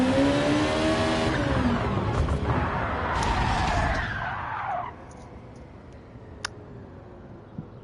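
Tires screech and skid through a drift in Gran Turismo 7, with engine revving under the squeal before it cuts off abruptly into near silence, a couple of faint clicks following.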